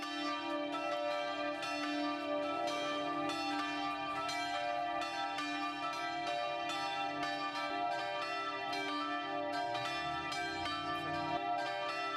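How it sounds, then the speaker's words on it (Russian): Church bells ring from a church in Stockholm, Sweden, a steady tolling with many overlapping metallic strikes and long sustained overtones filling the air without pause. "испугавшись неожиданного колокольного звона, доносящегося с церкви"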